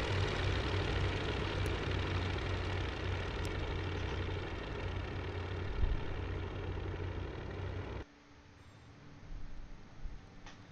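A WWI biplane engine drones in the Rise of Flight flight game, a steady loud rotary roar with a bump near six seconds, then it drops away abruptly to a quieter hum after eight seconds.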